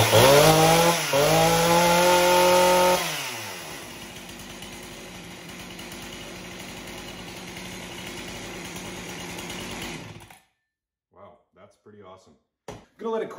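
A repaired two-stroke chainsaw engine fires up with the throttle locked and choke on, first revving loud and high for a few seconds, then settling into a steadier idle before cutting out, followed by scattered handling knocks and a person speaking.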